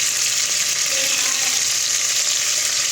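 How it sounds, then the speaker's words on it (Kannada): Chopped fenugreek leaves fry in a pan with a loud, dense, continuous sizzle that holds evenly throughout, up close and with no talking. "ಮೆಂತ್ಯ ಸೊಪ್ಪು ಹೆಚ್ಚಿಟ್ಕೊಂಡಿದ್ದೀನಿ ಸಣ್ಣ ಸಣ್ಣದಾಗೆ. ಅದನ್ನು ಫ್ರೈ ಮಾಡೋಕ್ಕೆ ಹಾಕೋತಾ ಇದ್ದೀನಿ."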